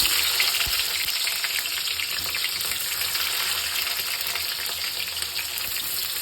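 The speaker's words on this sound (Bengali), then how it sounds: "পেঁয়াজটা একটু ভাজা হোক" Onions frying in oil for mutton curry, a loud, constant close-up sizzle that holds steady throughout, with no voices.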